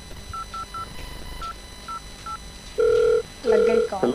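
A phone call is dialed, with a string of short keypad beeps followed by two longer, louder tones, with faint background noise and a voice speaking near the end.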